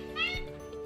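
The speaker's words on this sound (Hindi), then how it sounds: "उन्होंने मोर की बिल्ली जैसी म्याऊं म्याऊं," A peacock gives a single short, cat-like meowing call, brief and fairly clear over a steady musical backdrop.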